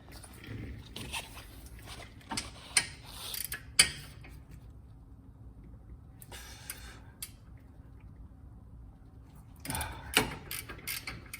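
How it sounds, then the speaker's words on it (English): A ratchet on 18mm nuts of a Mercedes GLK350 during a rear brake job, quick bursts of clicking pawl ticks close by, separated by quiet gaps, with faint background noise. "18mm, you're gonna need your ratchet, and then get your stubby"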